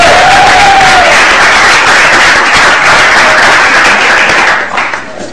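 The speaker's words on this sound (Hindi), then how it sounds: "एक बार जोरदार तालियां बजा दे मेरा।" Loud, sustained applause from a TV cricket talk-show studio audience covering a Twenty20 Asia Cup India vs Sri Lanka match, dense steady clapping that holds for about five seconds before tapering off at the end.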